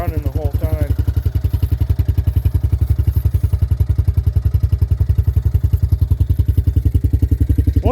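A Honda Big Red engine idles steadily after a cold start, its rapid, even thumping chugging on close and loud throughout without a break, while a voice speaks over it briefly at the start and end.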